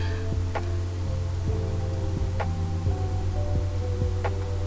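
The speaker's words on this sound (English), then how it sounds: "I'm just going to sew that down" A sewing machine stitches down the folded hem of a maxi jumpsuit, giving a steady low motor hum with faint, evenly spaced needle ticks repeating close by, and no talking.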